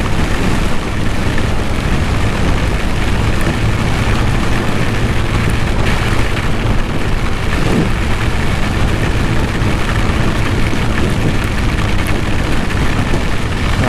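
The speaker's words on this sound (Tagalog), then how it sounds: "Lakas ng ulan, grabe." Heavy rain pours steadily on a motorcycle rider travelling through Gumaka, Quezon, on a solo ride, with a dense, constant broadband roar of rain and wind throughout and no clear speech.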